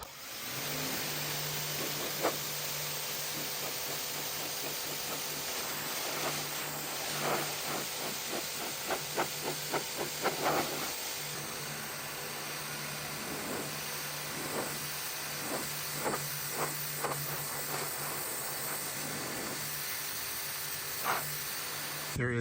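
A Ryobi 40V battery-powered 1200 PSI pressure washer sprays steadily through its orange nozzle on full mode, a loud continuous hissing rush with a constant motor hum underneath and scattered spattering bursts.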